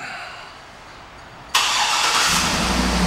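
A 2011 GMC Yukon XL AWD engine cranks and catches on remote start, silence giving way abruptly to a loud, steady idle roar that continues close by.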